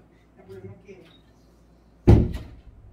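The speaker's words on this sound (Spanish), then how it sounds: "¿Me cierras la puerta?" After faint murmured talk, a nearby door shuts with one solid thud and a short rattling tail.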